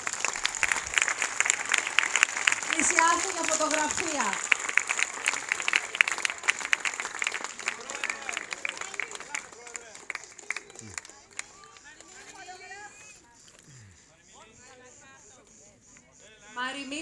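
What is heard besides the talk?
theatre audience applause for the troupe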